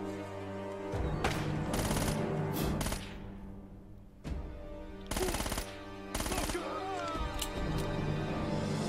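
Gunfire in the video game Uncharted: Drake's Fortune comes in loud, sharp bursts of rapid shots, with clusters near the start and two more short volleys later, over a steady tonal game score.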